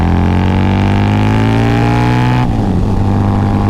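Harley-Davidson V-Rod Muscle fitted with a TAB Performance exhaust pulls hard in third gear, a loud, close engine note climbing steadily in pitch before an abrupt drop as the throttle closes near the end.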